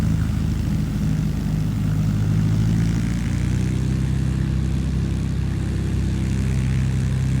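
A Blackbox Simulations L19 Bird Dog propeller aircraft in Microsoft Flight Simulator 2020 drones steadily, its engine hum loud and constant, with no voices.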